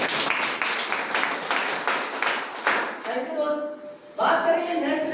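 Audience applause at a gathering, a dense burst of clapping that fades out after a few seconds, followed by a voice speaking.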